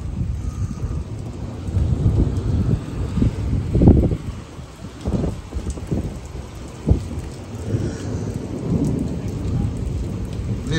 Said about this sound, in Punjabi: ਤੂਫਾਨ ਥੋੜਾ ਜਿਹਾ ਘੱਟ ਗਿਆ ਤੇ ਬੱਦਲ ਬਹੁਤ ਜ਼ਿਆਦਾ ਗੜਕਦਾ ਪਿਆ ਜੀ,